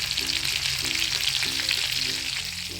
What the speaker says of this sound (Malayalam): വെളിച്ചെണ്ണ ഒഴിക്കുക ഉലുവ പൊട്ടിച്ച് ഇഞ്ചി വെളുത്തുള്ളി ചെറുതായി നുറുക്കിയതിട്ട് കൊടുക്കുക അതിൻ്റെ കൂടെ തന്നെ പച്ചമുളക് ഇട്ട് കൊടുക്കുക